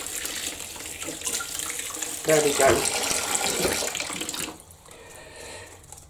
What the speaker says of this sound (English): So you hear me above the splash of the water.